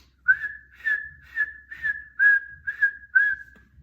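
Seven clear, evenly spaced whistles ring out one after another, each a short sliding tone, loud and close in an otherwise quiet space.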